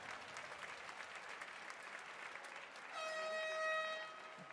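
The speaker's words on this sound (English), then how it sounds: "Big round of applause." Crowd applause at a CrossFit Games semifinal event in Europe, faint and distant, joined partway through by a loud sustained horn-like tone over the clapping.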